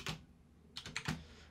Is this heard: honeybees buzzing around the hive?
no